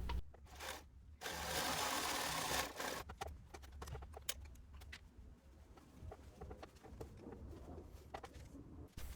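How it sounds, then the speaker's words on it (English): Sewing machine stitching a placket facing onto the body of a woven t-shirt at a half-centimeter seam, a steady continuous whir up close with a longer burst early on, then lighter intermittent stitching and ambient noise. "Then we'll sew the placket facing to the body with a 1/2 centimeter seam allowance."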